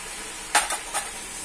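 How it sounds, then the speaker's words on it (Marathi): Milk being stirred into grated coconut and sugar in a pan over low heat, a soft background hiss with two or three quick spoon scrapes in the middle, close and brief, no talk. "मिक्स करून घेऊया।"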